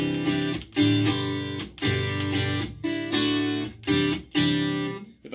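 Godin Ultra A6 acoustic-electric guitar played with the mid-range EQ cut out entirely, strumming loud repeated chords in an even rhythm with bright attacks and brief decays between strokes.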